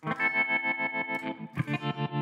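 An electric guitar plays a chord through a tremolo effect on a Line 6 Helix or HX Stomp, its volume pulsing in quick, regular throbs, then the chord is restruck and keeps pulsing.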